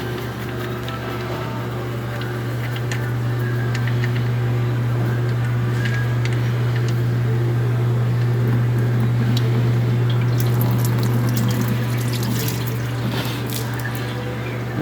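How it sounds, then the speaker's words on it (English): Engine oil pouring steadily out of the drain on a GMC/Chevy 5.3L truck, a constant loud liquid stream with a low hum under it and no talk. "Alright, now after the 5 minutes are up, I'm just going to drain the oil."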